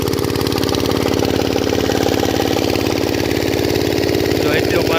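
An irrigation pump engine runs in a maize field, chugging at a steady idle-like rhythm, loud and close, with a constant drone and no change in pace.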